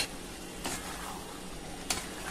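A pan of spring onion and bean vegetable bubbles and sizzles as it cooks, a soft steady fizz with a couple of brief stirring scrapes, close and fairly quiet.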